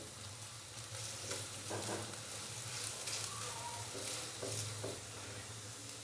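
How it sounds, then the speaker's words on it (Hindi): Ginger garlic paste frying in a pan: a faint continuous sizzle with a few soft stirring scrapes, heard on its own. "अदरक और लहसुन के पेस्ट को अच्छे से मिक्स करेंगे और हल्का सा इसको भी फ्राई कर लेंगे"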